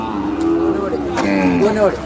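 Two large working bulls low and moo at a crowded rural bull fair, their calls rising and falling close by over a busy background of voices and crowd noise.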